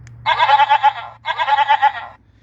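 A goat-bleat novelty horn mounted on a van blares twice in quick succession, each a loud, wavering, pulsing bleat about a second long, separated by a brief gap over a low steady hum.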